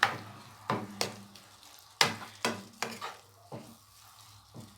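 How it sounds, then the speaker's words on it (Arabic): Vegetables sauté with garlic in a pan, with a sizzle under several sharp scraping stirs that come at irregular intervals, close and clear, with no talk. "المهم غادي نشحروا هاد الخضر هادو مع هذيك الثومه."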